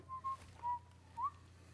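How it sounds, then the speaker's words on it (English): A person whistles a few soft, short tuneful notes with pauses between, quiet and nearby against a low background hum. "I was whistling."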